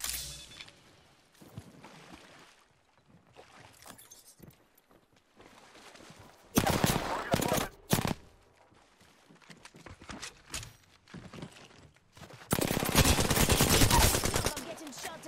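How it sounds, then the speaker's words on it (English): Bursts of gunfire in a shooter video game, with loud sustained volleys around the middle and again near the end, separated by quieter stretches of scattered shots and footsteps-like clatter. "I'm getting shot at."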